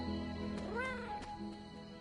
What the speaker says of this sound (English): I heard that cat.